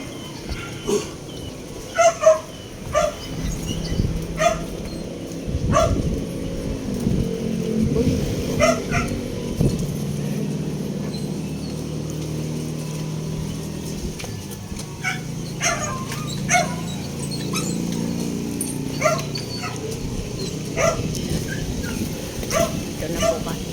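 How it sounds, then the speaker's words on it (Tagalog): Many dogs barking during an early morning walk along a boulevard, with scattered barks and yips near and far over street ambience, with occasional voices. "Daming aso."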